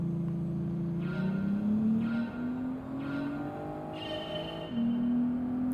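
A car engine revs in Gran Turismo 7 during a licence test. The pitch climbs steadily, then drops at each of several gear shifts about a second apart, and no one speaks.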